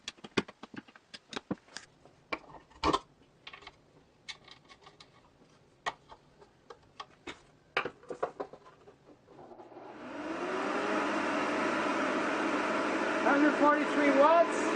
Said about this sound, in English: The next step is to switch to a backwards facing impeller